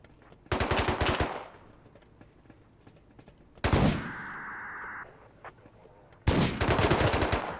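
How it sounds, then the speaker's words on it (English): Three loud gunshot bursts from a pump shotgun in the video game Rust at an oil rig, each blast ringing out with a short decaying tail, separated by quieter gaps with a faint mechanical hum between the second and third. "I could tell pretty quickly just by the gunshots that it was a pump guy"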